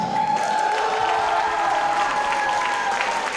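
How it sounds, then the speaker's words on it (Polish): Audience applause and some cheering for a 14-year-old saxophonist at a praise concert, sustained and even clapping from a crowd with a held tone underneath. "Wielkie brawa dla Staśka."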